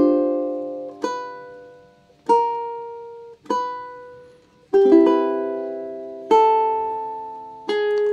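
Ukulele plucking the opening of a piece from The Legend of Zelda, clear close notes and small chords struck about every second and a quarter, each ringing out and fading before the next, with no talking.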